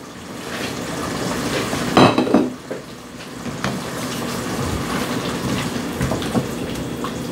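Wet, sloshing scrapes and clatter as fire roasted diced tomatoes from a 14.5 ounce can are stirred into a lamb stew pot, a louder burst of splashing near the start, then steady mixing.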